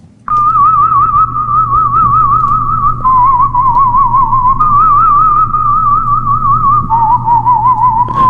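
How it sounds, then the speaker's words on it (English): A whistled melody carries on steadily for about eight seconds, a single bright wavering line with a soft steady hum underneath and no talking. "We're going to do another whistling song here."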